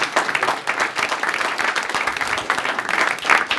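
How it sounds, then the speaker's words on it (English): Audience applause after a talk at a digital diagnosis event in Cambridge, Massachusetts: brisk, dense clapping from a room of people, loud and continuous throughout. "Round of applause."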